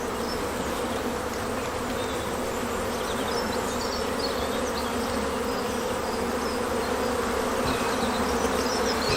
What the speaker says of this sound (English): there's lots of bees out flying today